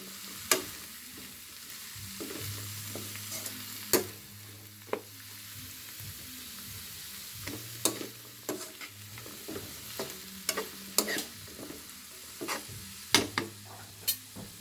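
Bottle gourd (upo) sautéing in a pan with a steady low sizzle, punctuated by frequent sharp scrapes and clacks of a utensil stirring against the metal, close and fairly loud, with no talking.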